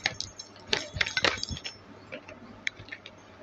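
Playing cards shuffled by hand during a card trick, giving quick papery riffles and clicks in short bursts, busiest early and then sparser light taps, close and fairly quiet with no talk.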